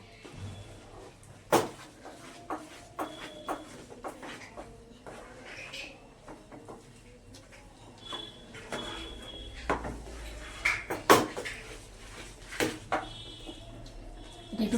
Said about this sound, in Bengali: এবার এটাকে নেড়ে নেড়ে নেড়ে নেড়ে একটু ঠান্ডা করে নেব